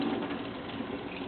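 Water rushes from a freshly repaired Moen single-handle faucet with an uneven spray pattern, a brief, steady hiss of flow with no voices.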